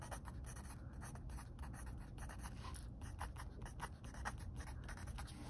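A Parker Itala mechanical pencil, a 1980s prototype, writes on paper. The quiet, close scratching comes in short, uneven strokes with a steady rhythm and no talking.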